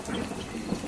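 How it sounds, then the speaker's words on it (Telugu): A cartoon storm effect of heavy rain and thunder plays as a dense, steady roar of falling water with low rumbling underneath, loud and continuous throughout with no voices. "వర్షం ఎక్కువై"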